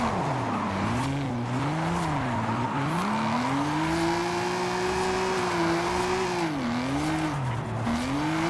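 An American muscle car drifting in the racing game Forza Horizon 5, its tires squealing in long, wavering howls that rise and bend through the corners over a steady engine drone.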